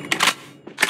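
Gun magazine swap in Call of Duty Mobile, heard as a few quick mechanical clicks and clacks, close and crisp, with a short pause before a final snap.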